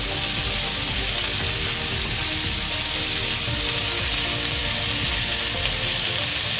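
Mixed vegetables and papaya frying in a pan for fried rice, a steady dense sizzle that holds for the whole stretch at an even level, close by, with faint scraping and clicking underneath and no talk.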